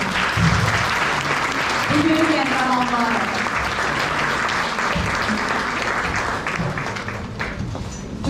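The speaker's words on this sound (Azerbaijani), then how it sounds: "İlk öncə istəyirəm ki, ürəkdən bu körpə balalarımızı alqışlayaq." An audience at a children's art school concert applauds warmly and steadily, a close wash of clapping that runs under a voice speaking over it.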